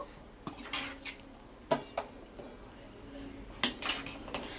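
Vangi bath being stirred in a pan over a medium flame, with a few sharp metallic clinks of a spoon against the pan over a quiet, scraping background.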